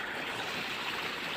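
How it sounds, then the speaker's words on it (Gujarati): Irrigation water flowing as it is channelled through a field, a steady close rushing gurgle with no break. "એવા કાનભાઈ પાણી વાળે છે, તમને બતાવું"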